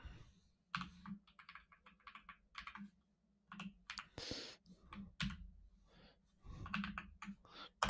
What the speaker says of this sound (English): we will just type random things